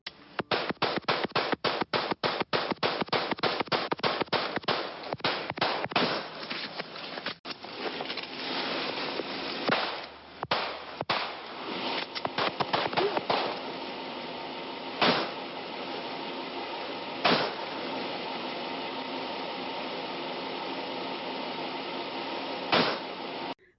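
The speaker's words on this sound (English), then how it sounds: "The next shots that you're going to hear are from James." Gunfire from a recorded police shootout in which a suspect fires at a state trooper: a rapid volley of sharp cracks in the opening seconds, then scattered single shots, and a few spaced reports later, with no talk.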